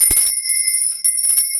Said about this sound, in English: let me just ring my lady bell